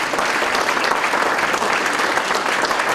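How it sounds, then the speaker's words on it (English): Steady, dense applause from an audience at a Romulus city hometown heroes award ceremony as an honoree comes forward, loud and continuous throughout. "Give her a round of applause as she comes forward"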